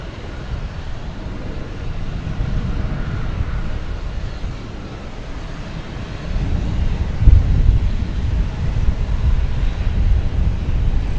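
An airliner taxiing at DFW Airport makes a steady low jet rumble mixed with wind noise, holding even and then swelling louder partway through as the plane turns.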